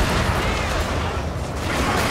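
Cannon barrage during an online siege battle in the Total War game Fall of the Samurai, a dense, continuous low rumble of booming artillery fire with no clear breaks, loud and sustained throughout.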